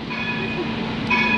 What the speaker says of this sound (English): Tram is coming.